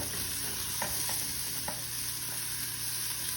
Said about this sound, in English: This little toss. Saute.